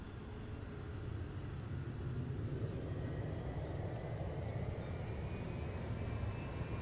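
An EasyJet airliner at Edinburgh airport gives off a steady, low, broad engine roar that swells slightly and then holds constant, heard from a distance with no voices.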